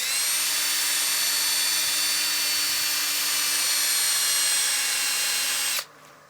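A lathe-mounted dyed wood platter spins against a sanding screen, giving a steady, loud whine with a constant motor hum that runs unbroken for several seconds and then cuts off abruptly.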